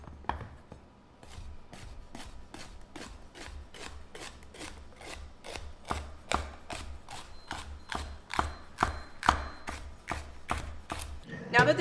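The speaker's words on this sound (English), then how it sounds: "one thing I know I can do is get these peppers chopped up." A knife chops peppers on a cutting board, giving a steady run of about two dozen sharp, evenly spaced taps that grow slightly louder, close and alone.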